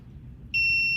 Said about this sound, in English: The alarm will trigger.